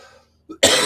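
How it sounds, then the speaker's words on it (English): A single sharp, close cough bursts out after a brief soft sound and a moment of silence. "excuse my bad cough again."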